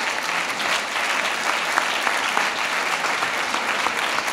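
A gala audience applauds at a synagogue inaugural event, a dense, continuous wash of many hands clapping at once that holds steady throughout.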